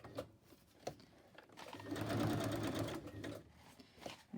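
A sewing machine stitching a large fabric ephemera holder, a close, quiet mechanical whir that speeds up into a steady run of about a second and a half, framed by short taps and handling noises before and after.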